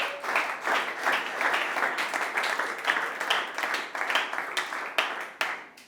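A church congregation at an Easter conference applauds in waves of sustained clapping, moderately loud and indoors, without talk.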